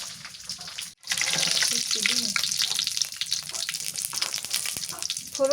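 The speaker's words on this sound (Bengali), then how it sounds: "তেলের মধ্যে একটা শুকনা মরিচ আর কিছু জিরা কালো জিরা এটি দিয়ে ফোরন করি" Hot oil crackles and sizzles steadily up close as a dried chili, cumin and black cumin fry, with occasional faint clinks over a busy hiss.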